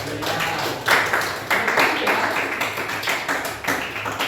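Students in a classroom clap after a presentation: uneven, rhythmic bursts of hand clapping from a small group, close and fairly loud, rising and falling in waves over murmured voices.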